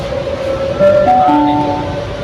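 Kuala Lumpur monorail train running, a steady close rumble with tonal whining hum that shifts pitch as the car moves, continuous throughout with no talking.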